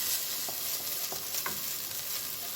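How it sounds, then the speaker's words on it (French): Asparagus risotto sizzling in a pan as white wine deglazes it, a steady broadband hiss with a few soft stirring knocks, close and continuous with no talk. "vous faites bien déglacer votre risotto avec le vin blanc"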